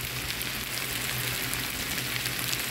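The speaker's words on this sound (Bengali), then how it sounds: "এখানে হাই হিটে সবজিগুলো আমি ভেজে নিয়েছি" Vegetables frying in a pan over high heat while a samosa filling is cooked, giving a steady, dense sizzle throughout with a faint low hum underneath and no speech.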